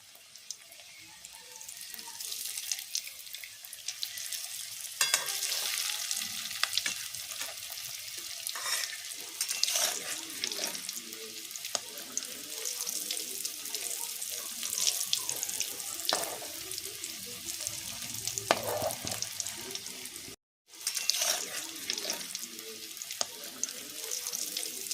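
Vegetable chops frying in oil over medium heat, a steady broadband sizzle that carries on throughout with small crackles and occasional stirring clinks, brief dropout near the end.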